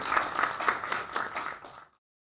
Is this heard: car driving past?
no